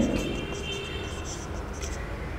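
Marker or chalk writing on a board during a ninth-grade higher mathematics class, heard as faint, brief scratching strokes against quiet room tone.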